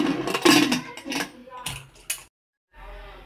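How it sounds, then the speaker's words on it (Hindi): A pressure cooker lid is fitted and closed over potatoes, peas and water, giving a quick series of close metallic clanks, scrapes and clicks, then a short silence and faint low hum. "और अब हम यहाँ पर हम कुकर का ढक्कन लगाएंगे।"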